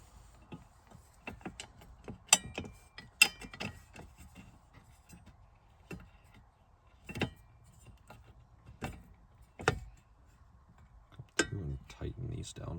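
Screws are tightened while installing a static cup holder in a Lexus LS430, a scattered series of sharp close clicks and ticks from the tool and plastic parts, with quiet pauses between them.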